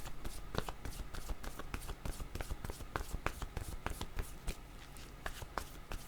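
Tarot cards shuffled and handled in quick crisp riffles and taps, a steady run of sharp papery clicks close up, with no voices over them.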